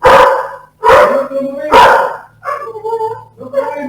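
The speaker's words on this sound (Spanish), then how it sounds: "están acá todos los perros ladrando que tocaron el timbre" Several dogs bark loudly and close by in a house after the doorbell rang, three sharp barks in quick succession followed by higher, whining yips.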